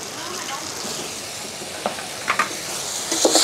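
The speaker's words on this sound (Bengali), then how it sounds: "এটাকে সুন্দর করে একটু ভেজে নেবো" Poppy seed paste and green chilli paste frying in a pan for potol dorma, a soft continuous sizzle and hiss broken by a few sharp spatula scrapes toward the end.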